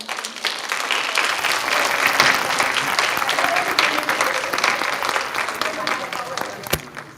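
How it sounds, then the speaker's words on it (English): Sustained audience applause and hand clapping fills a morning dementia-care event welcoming a guest speaker, steady and full throughout with a brief sharp accent near the end. "How about we welcome Ms. Angela with a great big hand clap."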